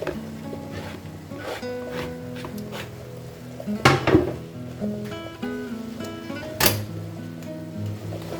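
Steady sizzling of onion and carrot frying in a pan, with occasional clinks and scrapes of a utensil against cookware, fairly close.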